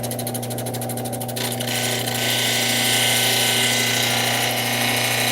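A 600 grit cabbing wheel grinds an unfinished estate stone with a steady mechanical whir and a rapid ratcheting chatter at first, swelling into a louder, continuous rushing grind.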